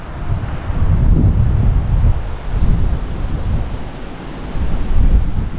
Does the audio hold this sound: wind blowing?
yes